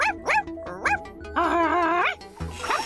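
A cartoon dog in Postman Pat barks and yips in quick bursts close up, with one longer whining bark in the middle.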